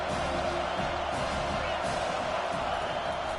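Stadium crowd at a college football game, Canes against Buckeyes, roars in a steady, loud wash of cheering and whooping that fills the whole moment without a break.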